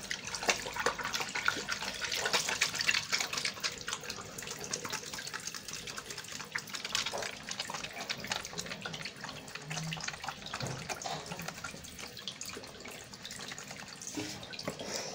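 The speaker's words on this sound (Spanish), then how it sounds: "Es el agua." Tap water runs into a sink for hand washing, a steady faint splashing stream with small drips and clatters throughout.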